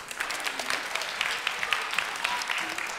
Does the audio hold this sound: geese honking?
no